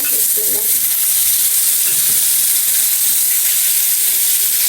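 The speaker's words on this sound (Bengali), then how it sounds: "তেল গরম হয়ে গেছে, মাছগুলো দিয়ে নিব" Fish dropped into hot oil in a pan, with salt and turmeric, frying in a loud, dense, continuous hiss and sizzle close up, steady for the whole span with no talk.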